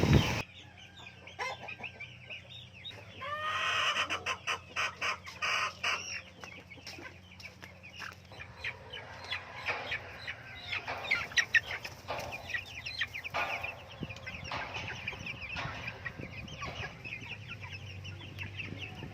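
Month-old chicks in a coop give a busy mix of clucks and peeping chirps, louder in a burst early on, then continuing in irregular bursts with a low background hum.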